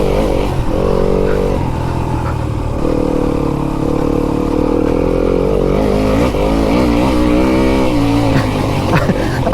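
Enduro dirt bike engine droning loud and close while riding, holding one gear with rising and falling revs and rattling clatter, no talking.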